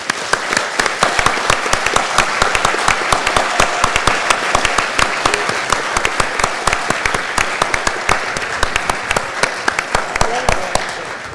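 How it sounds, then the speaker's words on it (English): Audience at a plenary session on public institutions breaks into sustained applause, dense steady clapping from many hands filling the room at an even level for over ten seconds, with no voices over it. "Let's give, if I can, another hand of applause."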